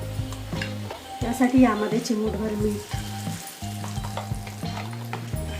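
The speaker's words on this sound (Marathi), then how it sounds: "मोहरी चांगली तडतडू द्यायची" Mustard seeds and cumin crackle and sizzle in two spoonfuls of hot oil in a wok, a close, steady frying hiss with sharp pops running beneath a person speaking.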